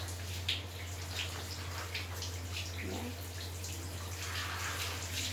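Water poured and splashing while a dog is bathed, soft trickling and drips over a constant low electrical hum, with brief speech nearby.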